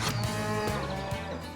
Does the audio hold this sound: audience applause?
no